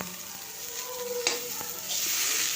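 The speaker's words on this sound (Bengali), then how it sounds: "এ দুটো পেঁয়াজ কুচিও দিয়ে দিলাম" Chopped onions and a dried red chili frying in oil in a village-style kitchen, a close, steady sizzle that swells louder near the end, with a faint clink of a utensil.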